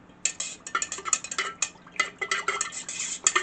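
A utensil stirs a hot soy wax candle mixture in a container, making close, irregular scraping clinks and taps in quick bursts, with no talking.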